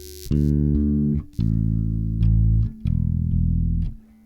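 Bass guitar harmonics ring out in three sustained chimes while the strings are tuned, each tone held about a second with short gaps between, clean and close with no voices.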